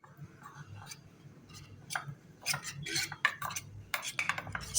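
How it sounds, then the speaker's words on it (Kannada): A spoon stirs cornflour and water in a bowl for baby corn Manchurian, making quick, light clinking taps that come faster and louder toward the end, close up over a low steady background hum, with no talking. "ಕಲಸಿಟ್ಕೋತಾ ಇದ್ದೀನಿ."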